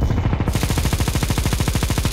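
A Negev machine gun in Counter-Strike 2 fires one long, unbroken burst of rapid, evenly spaced shots, loud and close, with no voices over it.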